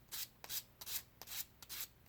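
Someone buffs a fingernail with a gritty nail buffer in small circles, giving quiet, close rubbing strokes. About seven short scratchy passes follow each other in a steady rhythm.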